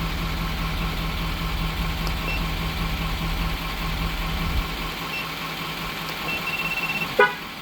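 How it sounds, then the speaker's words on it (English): A Ford F-250/F-350 pickup engine idles steadily throughout, then a short sharp beep sounds near the end during a tire pressure sensor relearn. "So the truck beeped, that means it took that tire."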